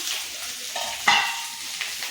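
Ivy gourd (kundri) frying in a pan, giving a steady soft sizzle with brief stirring scrapes and a sharper clink near the middle, close and alone without any voices.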